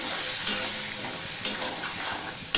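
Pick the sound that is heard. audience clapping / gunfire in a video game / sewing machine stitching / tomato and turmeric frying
tomato and turmeric frying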